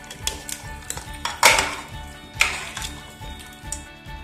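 Ground red chilli and spices are mixed into goat meat curry in a pot, with a spoon scraping and knocking against the metal in irregular clinks, two louder strikes standing out.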